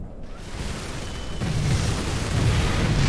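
Artillery shells pound targets in the real-time strategy game Supreme Commander, a dense, loud, continuous rumble of overlapping booms and blasts with no pauses.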